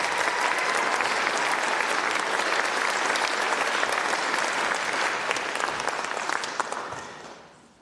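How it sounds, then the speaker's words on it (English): An audience applauds at a junior and senior high school band concert, a dense, loud burst of clapping that holds steady and then tapers off at the end. "Let's give these students a round of applause."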